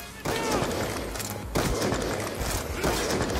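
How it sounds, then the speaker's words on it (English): Video game gunfire, a dense crackle of many shots from several shooters aimed at the player, steady and moderately loud, with rattling bursts throughout and no talk. "they're all shooting at me"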